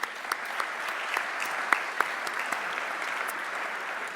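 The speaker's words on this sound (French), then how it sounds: "Bravo pour ça, on l'applaudit." At a French ceremony awarding cycling-friendly cities, a crowd applauds in a continuous, even roar of clapping, with a few sharper individual claps standing out from the wash.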